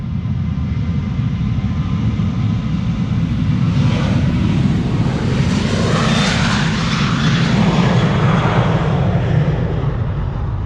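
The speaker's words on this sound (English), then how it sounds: "a regular Embraer 195 from Helvetic Airways going to Zurich" A Helvetic Airways Embraer 195 jet departing Amsterdam Schiphol: a loud, continuous engine roar and broadband rumble that builds and sweeps in pitch as the aircraft passes, heard alone without talk.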